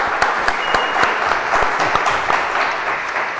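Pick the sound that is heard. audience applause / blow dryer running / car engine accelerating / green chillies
audience applause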